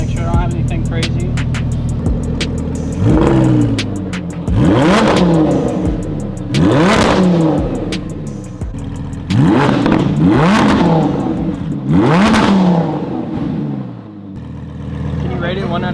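An Audi R8 V10 engine warming up without lights, revved hard in a series of loud, rising bursts that fall back between blips, with a steady idle underneath and people talking nearby.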